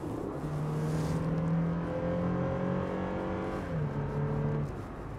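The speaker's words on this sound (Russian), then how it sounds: "рев прям стоит мощный" A new Toyota Land Cruiser Prado, a body-on-frame SUV, gives a steady, powerful engine roar with a deep sustained drone, heard close and continuous without speech and easing slightly near the end.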